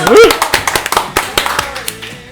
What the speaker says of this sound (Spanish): ¡Bravo! ¡Aplausos!